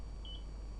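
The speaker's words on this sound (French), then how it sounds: "Vous avez probablement entendu le petit bip d'erreur." A small error beep from the control console of a quadruped robot: one short, thin tone, doubled in the middle, over a steady background hum.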